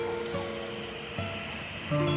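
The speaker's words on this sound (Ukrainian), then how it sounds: "а на вулиці знову дощ." Rain falls outside in a steady, close wash of patter with no voices, while soft sustained tones run beneath it.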